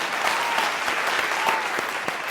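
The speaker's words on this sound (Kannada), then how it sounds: "ಬರಲಿ ಜೋರಾದ ಚಪ್ಪಾಳೆ" A studio audience at a televised Kannada folk singing reality show claps loudly and continuously, a dense, steady applause with no voices over it.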